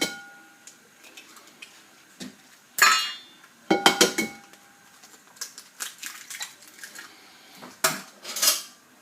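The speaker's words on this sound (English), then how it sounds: "You whisk together your eggs and your Parmesan cheese." Eggs and Parmesan cheese whisked together in a bowl for pasta carbonara: close, irregular bursts of metal clinking and scraping against the bowl, with short pauses between strokes.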